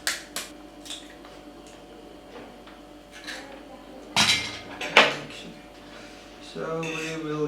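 A fork clinks and scrapes against a dish while eggs are gently mixed, with several light taps and a brief louder rattle, and some talking near the end.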